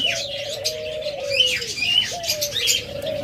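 Several pet birds such as lovebirds and cockatiels chirp and tweet close by in a cage, bright rapid calls layered over a steady low cooing hum, busy and continuous.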